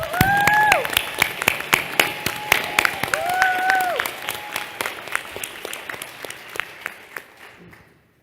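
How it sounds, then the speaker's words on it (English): An audience at a corporate global partner convention session on inclusive culture bursts into sustained clapping, with a few whistle-like tones early on, thinning gradually into scattered claps over about eight seconds. "So let's give them a big round of applause first."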